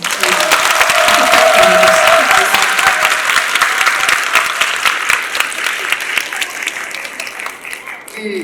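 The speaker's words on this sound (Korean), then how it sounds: "여러분 박수를 더 크게 쳐주시면" Sustained audience applause after a lecture, loud dense clapping from a large crowd that slowly thins toward the end, with a voice speaking over it early on.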